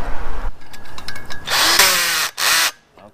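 A cordless power tool drives and tightens hardware on a newly installed trimmer rack, whirring in two close, loud bursts with a short break between them.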